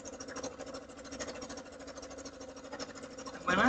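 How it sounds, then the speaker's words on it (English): Sewing machine stitching a fabric basket together, a steady mid-pitched mechanical hum running throughout the short clip with a slight rise at the end, no talk. "We are almost done sewing this together."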